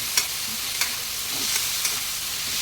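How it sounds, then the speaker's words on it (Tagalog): Shredded chicken stirred in a hot frying pan for pancit miki bihon, a constant sizzle broken by several sharp scrapes of the spatula at a loose, irregular rhythm, close up and with no talking. "Haluin natin ang ating minimay na chicken."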